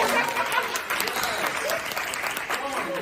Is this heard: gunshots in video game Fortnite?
no